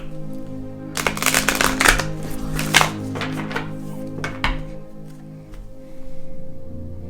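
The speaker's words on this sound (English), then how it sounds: "So I need to shuffle it one more time." Tarot card deck being shuffled, a run of dense riffling bursts and soft slaps from about one to five seconds, close and fairly loud, over a steady low hum with no talk.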